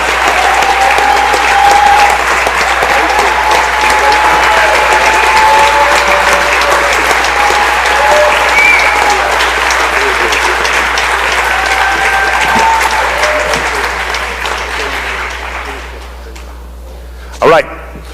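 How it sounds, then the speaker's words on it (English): Sustained applause fills the state House chamber at the Mississippi House floor session, a dense clapping crowd that holds strong before tapering off near the end, followed by a brief thump. "So I appreciate y'all giving him one more round of applause."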